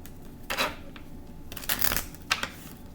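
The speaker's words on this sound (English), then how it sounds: "I forgot that I was supposed to be shuffling cards" A deck of cards is shuffled in a few quick riffling bursts close by, with quiet gaps between them.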